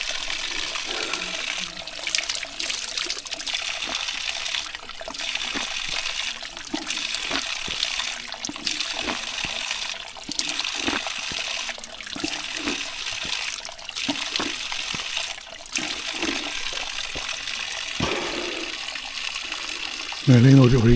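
Forest stream water runs along the Karimala trail in the woods on the way to Sabarimala, a steady near splashing and trickling flow that continues throughout with brief clinks and faint movement sounds.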